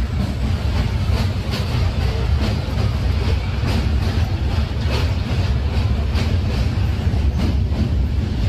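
A train crosses the Hardinge Bridge railway bridge over a river, a loud, continuous, close rumble with a faint, rhythmic metallic clatter throughout.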